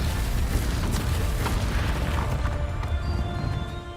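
Bombarda explosion spell going off in the video game Hogwarts Legacy, a loud, dense booming blast that rumbles continuously through the whole moment with crackling bursts layered on top.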